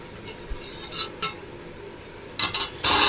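Boiled goat lungs are stirred with masala in a pan, heard as a few intermittent metal spoon scrapes and clinks against the pan over a quiet background, loudest at the end.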